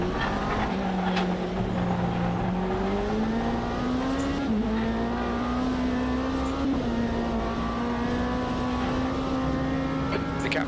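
A race car engine in a VR endurance racing game at Interlagos drones loudly and continuously, its pitch rising gradually through the gears on a clear stretch of track, with no voices.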